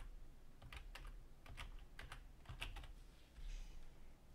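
Keys tapped on a computer keyboard while a file is saved and a date is typed in, coming as short, light bursts of clicks with brief pauses, close and fairly quiet, with no voices.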